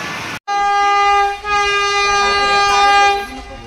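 A passenger train from Mumbai arrives close by, sounding a loud, sustained horn in two long blasts over the rumble of rail cars rolling past.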